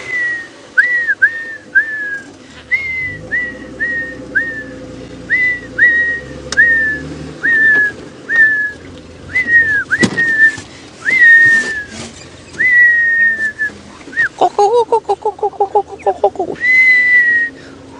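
A person whistles an imitation of a hornbill call on a safari drive: repeated plaintive falling whistle notes in a steady series, loud and close, then a quick trill-like burst, with low vehicle rumble underneath.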